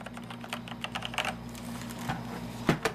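Fingers type on an Azio Levetron Mech5 mechanical gaming keyboard with Cherry switches, giving a quiet, fairly even run of crisp key clicks up close, with a slightly louder clack near the end.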